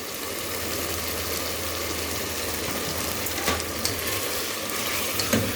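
Chicken with chopped green chillies sizzles steadily in a pan for haleem, a continuous close frying hiss with a low hum underneath and a few light stirring clicks later on.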